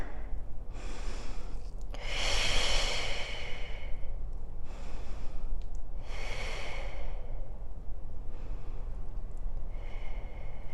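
Slow deep breaths during a full-body stretching flow, several long airy inhales and exhales spaced a few seconds apart, close and soft with no talking.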